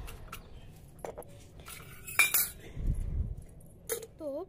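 A metal plate is set down outdoors in hot sun, giving a few sharp metallic clinks and clatters between quiet gaps, close and moderately loud.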